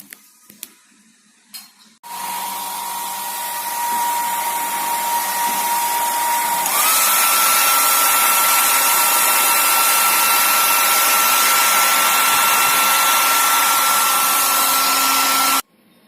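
A hair dryer runs steadily to heat the door of a Samsung inverter refrigerator, switching on after a short quiet start and jumping to a louder, higher setting midway, then cutting off near the end; no talking.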